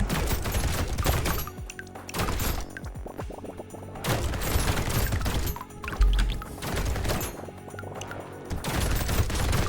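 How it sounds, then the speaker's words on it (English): Machine gun fire in the Brotato video game comes in dense, rapid bursts separated by brief lulls, loud and close, with crashing impacts mixed in and no talking. "Machine gun's gonna put in a lot of work"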